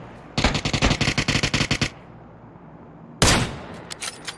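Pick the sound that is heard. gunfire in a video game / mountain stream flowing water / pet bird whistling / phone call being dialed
gunfire in a video game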